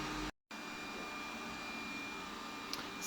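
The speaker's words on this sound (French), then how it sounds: "l'aspirateur est en train de se rapprocher, donc ça va faire du bruit" A vacuum cleaner drones steadily close by in a home, a broadband whine broken by a short drop-out near the start, then resuming at an even, fairly loud level with no talking.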